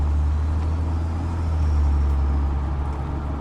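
A BMW F10 535i with a catless downpipe and valved exhaust idles with a steady, deep, fairly loud rumble that stays even throughout, and no one speaks.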